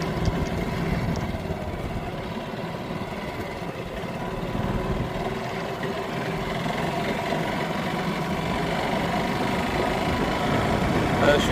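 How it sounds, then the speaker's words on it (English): A golf cart's small engine, long unused, runs steadily for the whole stretch, its rough idle surging, rising and dipping slightly, close by with a low rumbling drone. "So I can hear the engine kind of kicking in, kicking out here and there."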